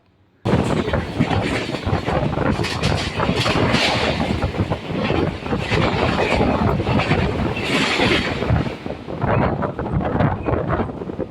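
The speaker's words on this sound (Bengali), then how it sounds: "ট্রেন এখন বেলুর স্টেশন ছেড়ে বেরিয়ে যাচ্ছে" A suburban train pulls out of Belur station, its cars rumbling loudly and steadily with rhythmic clickety-clack of wheels on rail joints and wind rushing past the microphone, near and continuous.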